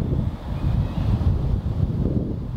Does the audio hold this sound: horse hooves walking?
no